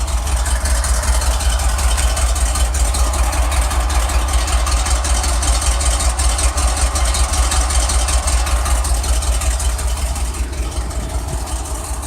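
A Dodge W150 truck engine idles with a deep, steady, throbbing rumble, close and loud, with no talking over it.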